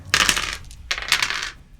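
Dice are rolled for a Deadzone tabletop miniatures game, four dice tumbling in two quick, close rattling bursts against a hard surface, with a short pause between them.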